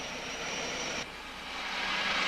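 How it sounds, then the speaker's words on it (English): An Army helicopter flies toward a desert front line, a constant loud engine and rotor roar that drops slightly for a moment, then swells again. "I was airlifted to Morocco's front lines by Army helicopter."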